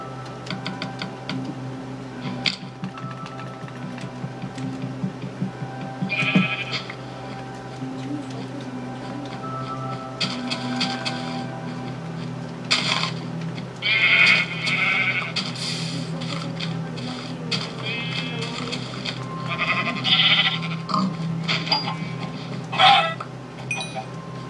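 Sheep bleat in Minecraft on Xbox 360, several short calls scattered over a steady background hum and clicks.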